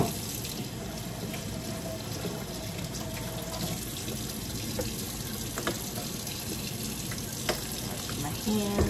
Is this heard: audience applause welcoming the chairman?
no